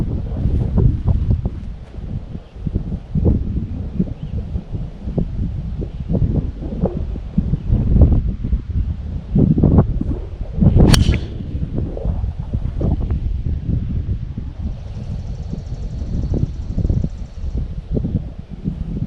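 Wind blowing across an open golf course on an uphill par 4, a steady rumbling buffet against the microphone that fills the whole stretch, with a brief brighter gust midway.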